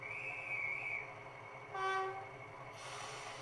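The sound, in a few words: guard's whistle sound on a model railway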